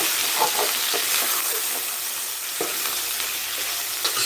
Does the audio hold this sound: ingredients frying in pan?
yes